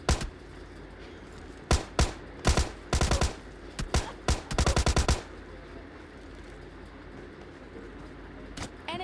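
Bursts of DP light machine gun fire in the PUBG battle royale game: several rapid automatic volleys in quick succession, loud and close, followed by quieter ambient game sound and a last short shot near the end.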